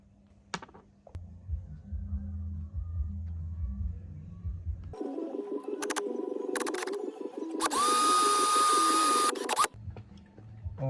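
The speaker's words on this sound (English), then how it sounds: "All I'm using to drill the line ties is a 3mm drill bit" A small drill with a 3mm bit whirs into a wooden fishing lure in several short bursts, near and fairly quiet, with a higher-pitched whine in the later burst and brief handling noises between.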